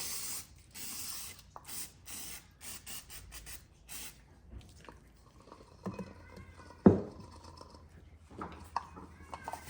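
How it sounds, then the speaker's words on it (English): Brake cleaner sprays onto the oil filter housing of a 2005-2011 Audi A6 (C6) in a rapid series of short, close hissing bursts, followed by quieter handling clicks and a sharp knock. "I'm just hitting it with some brake cleaner for cleaning."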